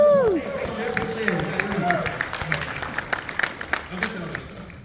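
Applause and cheering from a convention panel audience at San Diego Comic-Con, a short burst of clapping mixed with crowd noise and voices that fades over a few seconds.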